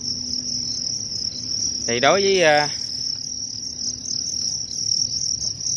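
Crickets chirp steadily in a scorpion farm enclosure where they breed as feed, a continuous high shrill trill running throughout, with a brief spoken word rising over it midway.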